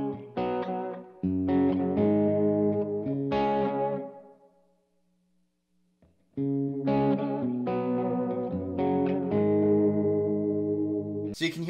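Electric guitar chords run through a Source Audio Collider reverb and delay pedal, phrases ringing out into a shimmering wash before another strummed passage starts.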